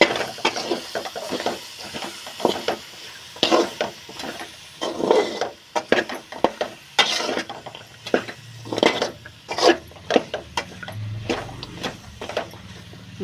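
Coconut pieces frying in oil over low heat give a soft sizzle, broken by repeated sharp ticks and clacks of stirring against the pan at an uneven pace, close by.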